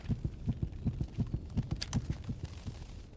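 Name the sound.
accelerating heartbeat after injecting a needle, video game STALKER GAMMA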